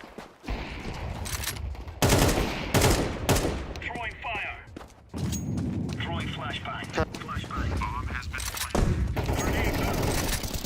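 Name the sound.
AK rifle gunfire in video game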